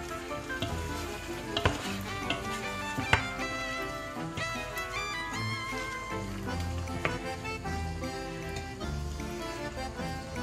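Chicken adobo being stirred in a pot. Scraping and clinking of the utensil against the pot come in irregular taps over a continuous low sizzle, quiet and close, with music playing underneath.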